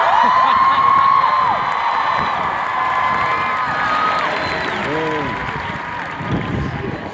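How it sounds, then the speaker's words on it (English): Cheering and applause from a large graduation crowd at a university commencement, with whoops and shouts over sustained clapping, loud and close, with whistle-like tones rising above the din. "Cheers and applause."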